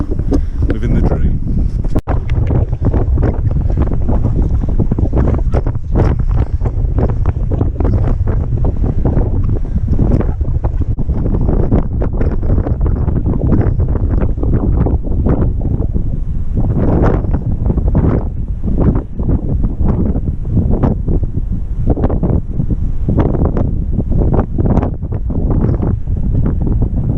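Strong wind roars and buffets the microphone on the Snaefell summit on the Isle of Man, a loud, constant rumbling gust with rough bursts throughout.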